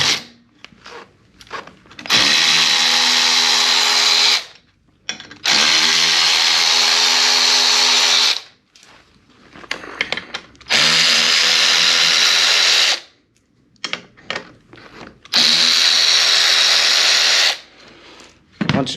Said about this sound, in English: I'm going to cheat by using the power ratchet to save some time here